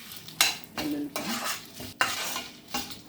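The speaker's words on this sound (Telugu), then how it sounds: "వెల్లుల్లిపాయలు ఎండుమిరపకాయలు కొంచెం వేగాక జీలకర్ర వేగాలి" Garlic and dried red chillies roasting in a pan, with repeated loud spoon scrapes and clatters of stirring over a light sizzle, close by and rhythmic.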